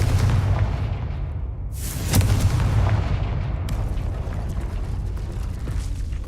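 A Confringo blasting spell in Hogwarts Legacy: a loud, close explosion bursting out of ongoing rumbling combat noise, followed by a sustained roar and fading debris.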